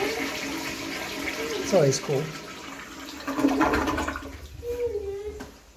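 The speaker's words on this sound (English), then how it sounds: "I give a flush." An old standard toilet in a college residence hall flushes with a rushing, gurgling swirl of water, moderately loud and close, while a person talks over it.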